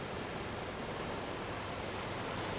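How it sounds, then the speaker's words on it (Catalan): Water rushing in and rising in the Teletubbies children's show, a steady full-band roar like surging surf that holds at an even level throughout, with no one talking. "Ara ve l'aigua! Puja l'aigua!"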